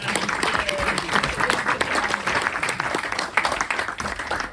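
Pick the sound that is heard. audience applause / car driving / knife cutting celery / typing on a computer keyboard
audience applause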